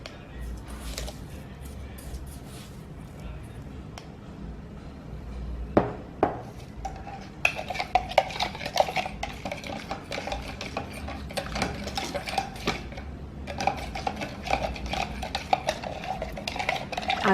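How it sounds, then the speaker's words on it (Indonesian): A metal spoon clinks and scrapes against the sides of a cup while stirring sugar into lukewarm water for donut dough. The taps are soft at first, then quicken into a steady, close run of light clinking. "Aduk hingga benar-benar larut."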